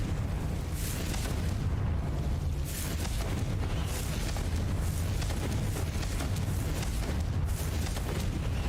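Confringo fire spell blasts in a wizard video game, a dense continuous roar of fiery explosions with repeated bursts layered over a heavy low rumble, loud and sustained throughout.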